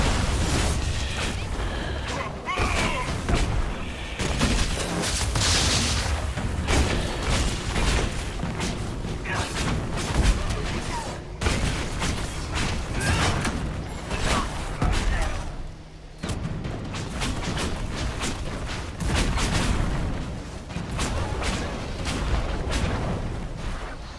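Combat in Dragon Age: Inquisition, with a dense, continuous run of ranged shots, impacts and booming effects, loud and busy throughout with brief dips in intensity.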